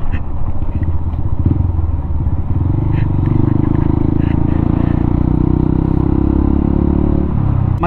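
A Honda XR motorcycle engine rumbles loudly and continuously while riding a very rough, pothole-filled road, with clattering and thumps from the surface mixed into the steady drone.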